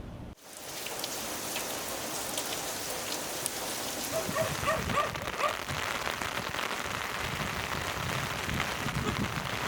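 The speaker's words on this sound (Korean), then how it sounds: "비가 내리는 그 소리를 바로 들을 수 있어서 이 텐트에 떨어지는" Rain drumming steadily on a tent during a walk near the 38th parallel in Korea, a dense, even patter that grows slightly heavier partway through, heard up close with no talking.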